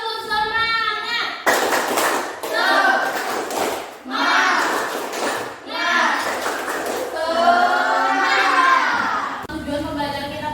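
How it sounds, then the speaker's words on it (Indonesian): A class of children in an Indonesian school perform a rhythmic spirit clap, chanting together in bursts punctuated by sharp group claps, with a teacher's voice leading between the rounds. "Tepuk semangat."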